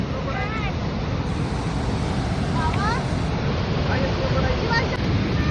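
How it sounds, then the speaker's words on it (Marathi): Loud, continuous roar of water pouring over the Ozar weir near Sangamner, Maharashtra, close by, with a few voices calling faintly beneath the rush. "पाणी पडते बघा."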